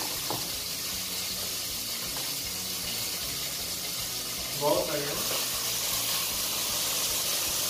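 Sausage fries in oil in a frying pan, giving off a steady, broad sizzle and hiss as its released water cooks off, while a person talks over it.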